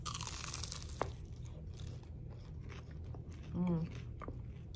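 A crisp bite and crunch into a fried homemade cheeseburger spring roll, a quick close crackle amid soft room noise, with people talking nearby.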